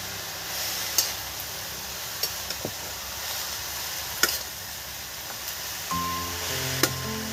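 Salt and shredded cabbage are stirred in a pan for a vegetarian cabbage ghonto, with steady low sizzling and a few sharp utensil clicks against the pan.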